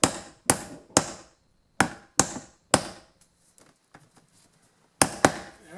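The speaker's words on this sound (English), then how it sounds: "Just going to snug this down so the wire doesn't move. Not too tight. And I'll put the staple in." Hammer strikes driving a staple to secure electrical wire during a sub panel install in an outbuilding, about seven sharp, close blows in two clusters with a few faint taps between them, no talking.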